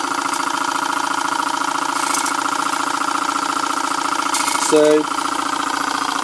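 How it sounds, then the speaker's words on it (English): A Boucher S62 steam engine fed by a CF2 boiler runs steadily at close range, its even mechanical drone holding throughout with a brief knock near the end, while a voice speaks a single word over it. "That's how to run your steam engine."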